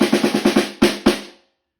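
A snare drum with its strainer engaged, so the snare wires buzz against the bottom head. Six quick, evenly spaced hits are followed by two slower, louder strokes, each with a crisp rattling tail that then fades to silence.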